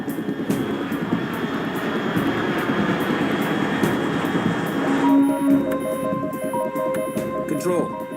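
Aircraft engines drone as a steady, loud roar in Metal Gear Solid 3: Snake Eater, joined midway by a low tonal hum and electronic beeps, with a voice speaking throughout.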